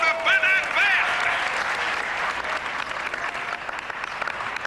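A crowd applauds a band at a festive party, steady dense clapping throughout with a few whistles near the start.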